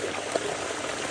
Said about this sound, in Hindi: ये पूल के पास आ गए हैं और ये भर देते हैं फीडर।